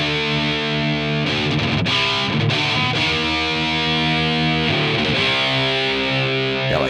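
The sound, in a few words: electric guitar through Friedman amplifier, vintage presence setting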